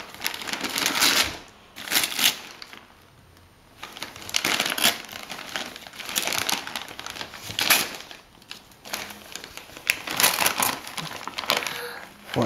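Wrapping paper on a present being torn and ripped open in bursts of crackling and crinkling, close and loud, separated by short pauses, with occasional voices in the background.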